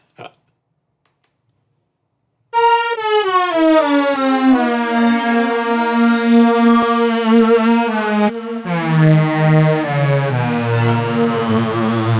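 A bright Retrologue 2 synthesizer lead plays sustained, gliding notes with a buzzy, noisy oscillator edge and aftertouch vibrato, after a brief click and a moment of silence.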